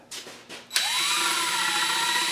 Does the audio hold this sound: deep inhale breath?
no